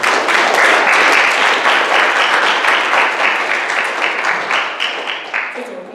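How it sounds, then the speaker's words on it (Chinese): A church congregation gives Teacher Cai a warm welcome with loud, sustained applause, many hands clapping together in a dense wash that slowly eases off near the end. "我们用热烈掌声欢迎蔡老师。"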